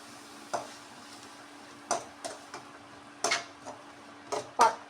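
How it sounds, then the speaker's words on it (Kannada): A spatula strikes and scrapes a pan as cauliflower gobi fries with tomato sauce. Sharp clinks and scrapes come in irregular strokes over a faint background sizzle. "ಟೊಮೆಟೊ ಸಾಸನ್ನು ಸ್ವಲ್ಪ ಹಾಕೋತೇನೆ."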